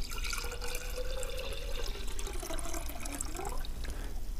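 Water poured into a glass vase, a continuous close splashing stream with a rising filling tone as the level climbs, alone without talk.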